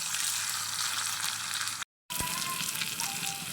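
Onions tempering in hot oil, a steady soft sizzle and crackle with a brief dropout in the middle, then more sizzling with faint stirring.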